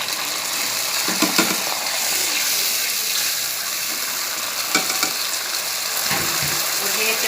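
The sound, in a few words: green chillies frying in a pan for dragon chicken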